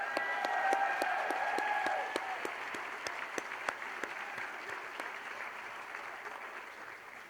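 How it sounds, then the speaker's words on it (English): An audience at a school district celebration claps steadily as a nominee walks up to the stage, a dense, sustained applause that eases slightly in loudness toward the end, with faint voices early on. "As she comes to the stage, yeah, you can keep clapping for her,"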